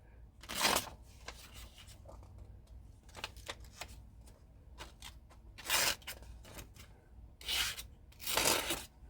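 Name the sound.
cheap souvenir knife ripping notebook paper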